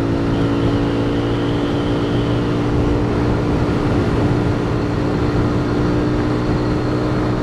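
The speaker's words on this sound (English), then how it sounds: "Let's crank a full throttle." A Honda Z125 motorcycle engine held at full throttle on a road ride, a steady loud droning whine with a sustained pitch and constant wind rush, no pauses.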